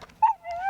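Sled dog at a mountain sled-dog site giving a short, high, rising whimper that tails into a thin whine, close and fairly quiet.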